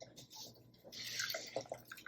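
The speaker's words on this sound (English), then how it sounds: "now we're gonna put this into a container of cool water, and we're gonna rinse it" Water drips and splashes faintly as yarn dyed with Kool-Aid is rinsed in a container of cool water, giving a few soft, close plinks and trickles over a quiet background.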